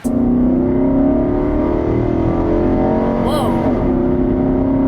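A loud, steady V8 engine drone from a 2017 Nissan Armada Platinum SUV, with a deep harmonic hum that rises slightly in pitch as it accelerates, continuous throughout.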